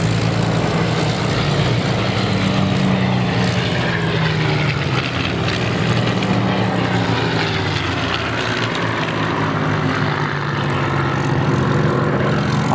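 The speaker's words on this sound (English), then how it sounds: "I pause for a moment as the Britan 109 comes in" A Messerschmitt Bf 109 fighter flying in at an airshow Battle of Britain re-enactment, its propeller engine a loud, steady roar throughout.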